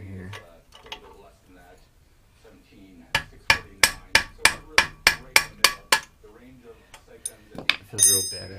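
Hammer striking a seized brake caliper on a 1980 Honda CX500 motorcycle, about ten sharp metallic blows in an even rhythm, close and loud, with someone talking before and after.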